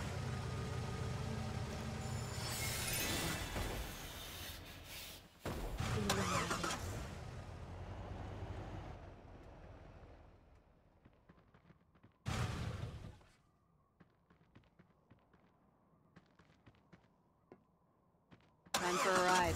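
A vehicle engine starts up in the Final Fantasy First Soldier battle royale game, with loud game sounds first, then a quieter stretch broken by short bursts of engine noise.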